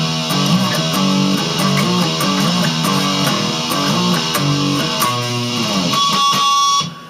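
Electric guitar playing a riff with ringing harmonics, a loud, steady run of sustained distorted notes and chiming overtones that cut off abruptly at the end.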